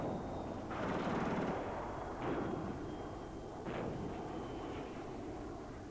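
Archival 1967 war footage sound of bombing on the retreating Egyptian army near the Mitla Pass, with Mirage III jets: heavy booming blasts and roaring aircraft noise, loud and dense, rising in repeated surges over a continuous rumble.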